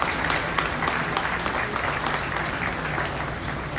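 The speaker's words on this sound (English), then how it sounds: "A nice round of applause." A crowd in full bleachers at a 2023 beef cattle show gives a round of applause, dense steady clapping throughout, fairly loud and unaccompanied by speech.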